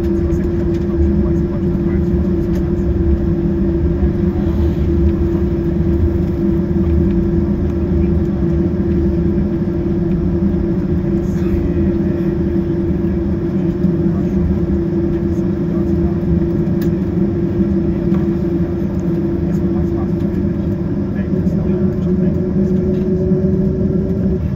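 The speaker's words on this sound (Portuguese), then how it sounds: "Vamos de decolagem com o barulhinho da turbina sem corte." Steady, loud jet engine roar inside the cabin of a Delta economy flight taking off from New York JFK at night, a continuous low rumble with constant turbine whine filling the whole stretch.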